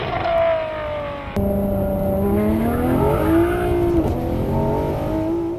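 A Ferrari 599 GTO's V12 revs hard, its harmonic whine climbing and falling, then surging higher after a sharp jump in intensity, loud and close with a street-car scream toward its 9,000 RPM redline.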